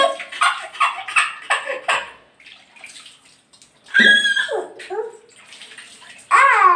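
Water is poured over a baby during a traditional bath in short splashing bursts, separated by quiet gaps and broken by brief high whimpers.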